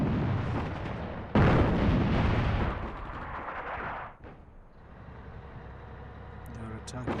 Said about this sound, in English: I have 2 more airstrikes.